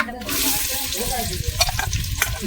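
Onion and asafoetida frying in a pan in a Konkan village kitchen, a steady close sizzle with stirring scrapes and a few clinks of the utensil toward the end.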